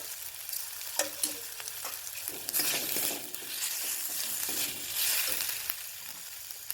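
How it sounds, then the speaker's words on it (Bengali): Spice paste for mung dal with fish head sizzles and fries steadily in a pan, a close, continuous crackling hiss with occasional stirring clicks and no talk. "দিয়ে মশলাটা ভালো করে কষিয়ে নেব"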